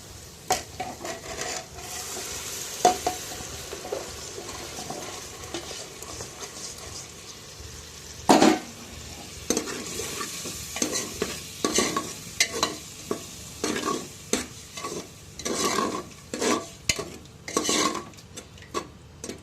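Mung beans being stirred in a pan of sizzling spiced oil tempering for a Gujarati curry, with a steady frying hiss under repeated scraping and clinking of a spoon against the metal pan.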